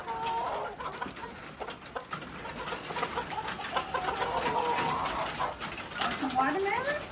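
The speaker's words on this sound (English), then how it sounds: "I'm still going to show you a little bit of the chickens." Chickens cluck and murmur close by in a backyard coop with their chicks, a steady chatter of calls under someone talking.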